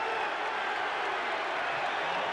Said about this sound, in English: The crowd likes that one.